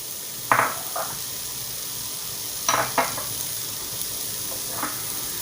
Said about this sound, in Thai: เราจะเอาลงมาคั่วให้หอมก่อนนะ คั่วให้หอมก่อนพร้อมด้วย หัวหอมกระเทียมที่เราปอกเอาไว้นะ